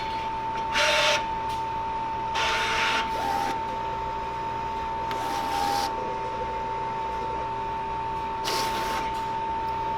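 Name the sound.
vinyl cutting machine measuring the sheet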